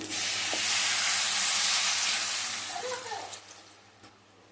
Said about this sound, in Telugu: ఇప్పుడైతే వాటర్ వేసుకుంటున్నా.